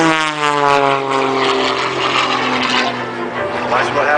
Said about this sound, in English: Rob Holland takes high-performance aerobatics to a whole new level